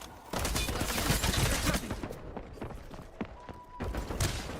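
Rapid gunfire bursts in the shooter video game Highguard, dense crackling shots filling the first half, then scattered shots and clatter over game effects.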